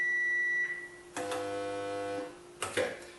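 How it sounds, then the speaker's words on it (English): Electronic test tones come from pushed buttons: a short higher beep, then a lower, buzzier boop lasting about a second, with a brief click-like burst at the end. "Can you hear it makes a beep?"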